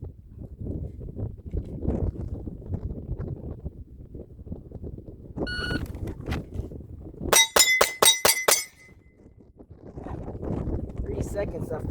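Glock pistol shots ringing a steel target outdoors in strong wind, a fast string of about six bright metallic pings near the middle, with wind rumble and a person talking before and after.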